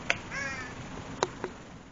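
Crow cawing outdoors, a few short harsh calls at moderate distance, with sharp clicks in between and faint background noise.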